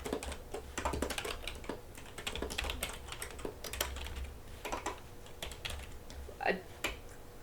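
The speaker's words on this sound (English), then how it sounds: "please forgive my horrible typing" Rapid clattering keystrokes on a computer keyboard come in uneven bursts with short pauses, close and fairly soft, along with faint low background noise.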